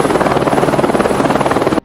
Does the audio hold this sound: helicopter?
yes